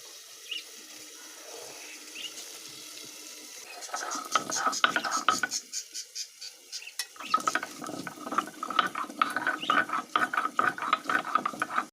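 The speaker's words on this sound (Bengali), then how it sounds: "আমি এদিকে গরম মশলাটা বেটে নেব।" Garam masala is ground by hand for a duck egg curry, starting after a quiet stretch with a rhythmic, gritty scraping that grows louder and continues in uneven strokes to the end.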